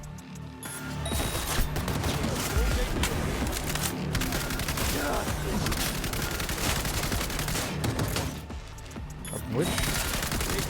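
Sustained automatic gunfire rattles through a Cyberpunk 2077 firefight, dense and continuous bursts with occasional heavier thumps, while someone speaks briefly over it.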